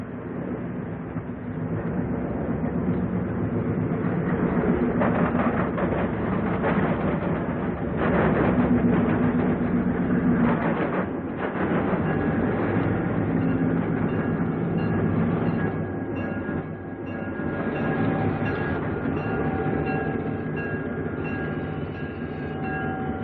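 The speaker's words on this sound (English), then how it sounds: "Rock Island's Peoria Rocket arrives at Joliet, Illinois in 1961." A 1961 Rock Island Peoria Rocket diesel passenger train arrives at Joliet, Illinois, its engine drone and heavy rumble filling the scene continuously with faint wheel clatter and tonal hum, muffled and close, with no voices.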